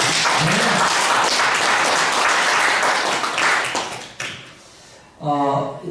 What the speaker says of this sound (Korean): 감사의 박수 한번 드립시다